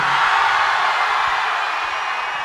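A live audience bursts into steady applause and cheering, a dense continuous wash of clapping that fades slightly toward the end, with no speech over it.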